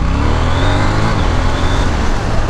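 KTM Duke 790 parallel-twin motorcycle engine revving with a quick shifter, a loud, close, continuous engine roar with rising and shifting pitch throughout a short burst, without talking.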